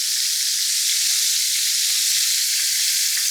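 Chicken fried steak fries in a pan with a steady, dense sizzle, an even bright hiss that holds without a break.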